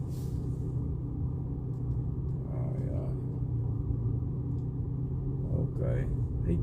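Car traffic in Cape Town rumbles as a steady, low, moderately loud drone with faint passing swells, and a person speaks briefly over it.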